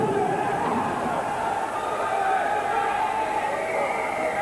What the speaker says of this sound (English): The crowd has gone wild, shouting these men on